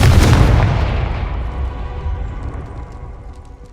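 A Confringo explosion spell from Hogwarts Legacy bursts in a loud, close boom that rolls off into a long fading rumble over a few seconds.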